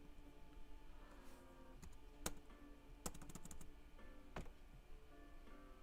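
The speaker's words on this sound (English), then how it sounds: "Am I typing it correctly?" Scattered keystrokes on a gaming laptop keyboard during a live GPU repair, with sparse clicks and a few sharper taps over a steady low hum, fairly quiet and with no voice.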